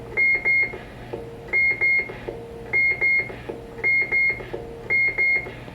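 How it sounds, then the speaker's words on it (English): Five repeated double-tone electronic roger beeps from a Stryker SR-497HPC CB radio in a steady rhythm, each a quick two-note chirp, clear over low background hiss. "And then Roger beep 2."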